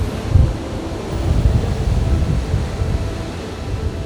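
Sea waves wash ashore at a Karachi seaside, a continuous rough surf roar mixed with heavy wind buffeting the microphone, with no voices.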